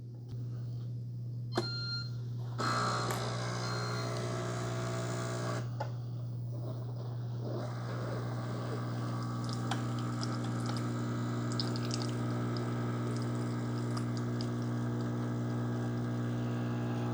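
An Instant Pot 2-in-1 K-Cup coffee maker brewing a bold coffee gives a steady low pump hum, with a beep and gurgling water bursts before a continuous hissing, sputtering brew stream.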